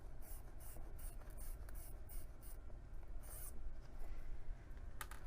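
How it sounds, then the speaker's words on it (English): Clover Chaco chalk marker drawing a straight line on fabric against a straight edge during sewing: soft, close scratchy rubbing strokes in short bursts, quiet and alone. "I'm going to use my Clover Choco just to draw a line"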